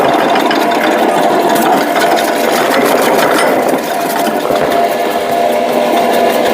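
An electric vegetable cutting machine rated at 100 kg per hour runs steadily with a loud, continuous motor whir and a light mechanical rattle, with no talking.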